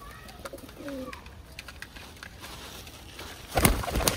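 High-flying pigeons coo softly in a few low, rolling calls nearby, followed by a burst of fluttering or patter near the end.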